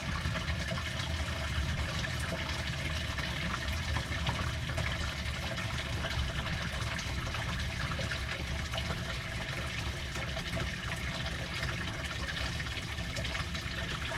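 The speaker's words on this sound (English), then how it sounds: "so we're going to drain that water out now." Rinse water drains from a washing machine in an RV in a steady, continuous, even rush, fairly quiet and unbroken throughout, with no voices.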